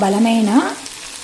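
Sweetcorn and green peanuts cook with salt in a pan over a low flame, giving a close, steady sizzle with stirring scrapes and a faint tonal whine.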